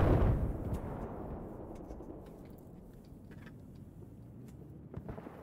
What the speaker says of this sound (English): That fucking tank shooting in the air like he's a fucking cowboy, man